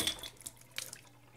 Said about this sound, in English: make sure the spray gets everywhere.